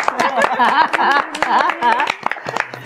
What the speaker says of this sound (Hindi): तो चुहिया कपी नारायण के लिए एक बार फिर से तालियां। बजा रहे।